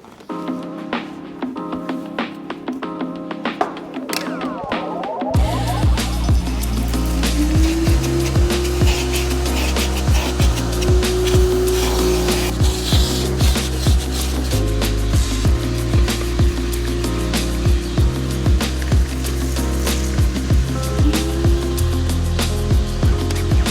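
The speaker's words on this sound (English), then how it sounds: "pull out the new vacuum and see how it does in this interior" A new vacuum cleaner runs steadily and loud while cleaning the interior of a Volvo 242 car, its continuous motor drone broken by repeated scraping and knocking as the nozzle works over the seats and floor, with no one talking.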